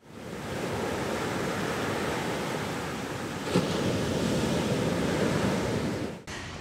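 Ocean waves wash steadily onto a beach on a morning, a continuous loud broadband roar of surf with a brief surge midway, heard alone with no talking.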